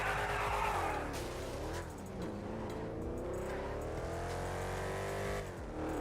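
A car engine in a GTA V FiveM server mod drones loudly and steadily, its revving pitch rising and falling with brief dips as the vehicle accelerates, with no voices over it.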